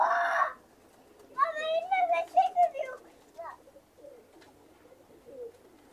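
Crested pigeons coo softly nearby in a few low, throaty bursts, with a short louder sound at the start and quiet gaps between calls.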